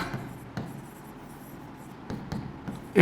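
Marker or chalk writing a sentence on a board in a grammar lesson, a few short scratchy strokes spaced apart with light taps, fairly close, and no talking.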